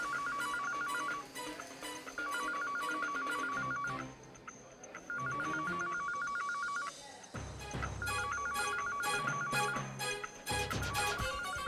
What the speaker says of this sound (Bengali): রিং তো এই করিডোর থেকেই শোনা যাচ্ছে।